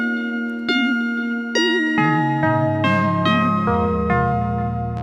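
A Casio CZ-101 synthesizer plays a bright melodic line through effects, a sequence of sustained notes with chorus-like wobble and echo, stepping from note to note at a moderate pace, loud and alone with no voices.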